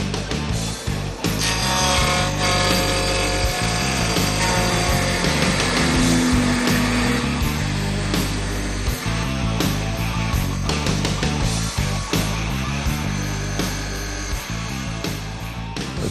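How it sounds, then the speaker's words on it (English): A Symtec wood lathe spins wood with a continuous, dense whirring drone and scraping texture, loud and steady from start to finish with brief knocks scattered through. "As this demonstration shows, with the Symtec lathe you get real results in a short time."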